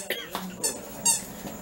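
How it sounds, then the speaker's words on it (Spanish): A child's chair squeaks indoors in a few short, sharp chirps scattered over a brief moment, close and fairly loud, with faint voices around. "¿cómo chilla tu silla?"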